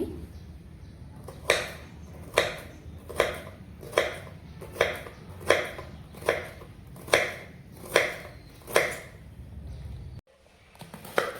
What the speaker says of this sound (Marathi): एका चिरून घेते कारले